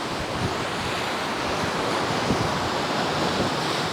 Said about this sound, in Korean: 어떻게 이렇게 깎아진 절벽과 바다 그리고 파도를 가까이에서 볼 수 있는지 신기하기 짝이 없네요